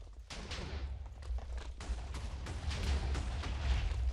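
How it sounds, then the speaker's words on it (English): Rapid bursts of crackling explosions from a grenade gauntlet in a modded Minecraft game, a dense run of blasts piling up and growing louder with no talk over them. "it does just explode whatever you're looking at, or under you"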